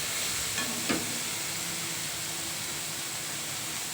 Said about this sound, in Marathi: यात टाकूया, मिरची पावडर, मसाला छान परतून घ्यायचा